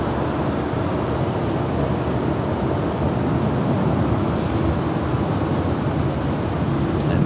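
A Northern Air Cargo plane taking off at Los Angeles International Airport, heard as a continuous, broad jet engine roar that holds steady and loud for the whole stretch with no voices.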